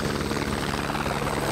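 Helicopter rotor and engine noise at an airport in Hungary, a loud, close, continuous churning drone with no voices over it.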